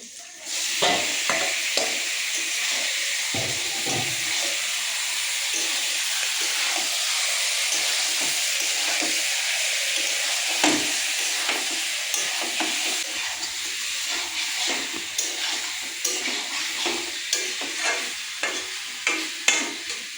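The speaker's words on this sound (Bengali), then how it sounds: "এবার পেঁয়াজটা একটু লাল লাল করে ভাজা হয়ে গেছে এবার আমি চিকেন দিয়ে দেবো" Pieces of chicken sizzle in hot oil with onions fried until reddish, a steady frying hiss with repeated sharp stirring scrapes and spatters throughout, close and fairly quiet.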